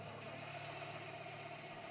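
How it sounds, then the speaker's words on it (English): A farm tractor engine idles steadily as it warms up in Farming Simulator 25, a low continuous rumble with a faint mechanical hum and no talk. "fire up this tractor and let her warm up here"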